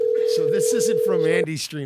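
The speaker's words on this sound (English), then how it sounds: "You can hear the phone going off in the background." A telephone rings steadily in the background, a sustained electronic tone under someone talking close by, cutting off just before the end.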